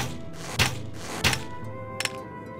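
Three short, hollow thunks spaced about half a second apart, near and fairly soft, from arrows shot in the video game Trine, with a faint steady hum underneath.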